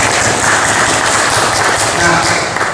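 Applause from an audience at a journalists' competency-test session, a dense steady wash of clapping throughout, fairly loud and close, with a faint tone near the end.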